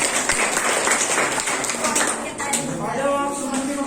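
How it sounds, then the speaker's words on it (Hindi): Clapping from parents and students at a school parent-teacher meeting fills the room with dense, steady applause, with voices murmuring underneath. "तालियां बजा रहे"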